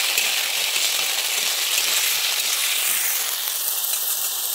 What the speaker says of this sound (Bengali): আমি এবারে দিয়ে দিচ্ছি আলু বেগুন। আমি ভালোভাবে নেড়ে নেবো।